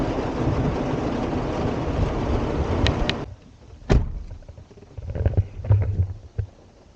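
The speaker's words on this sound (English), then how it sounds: "stopped by a hailstorm" Hail pelts a van on a drive to San Miguel de Allende, Mexico: a loud, dense, steady clatter for about three seconds, then it cuts off abruptly, leaving scattered thumps and low rumbles.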